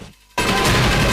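A sudden, loud burst of automatic gunfire from an action film cuts in after a brief quiet moment. It runs as a dense continuous rattle to the end.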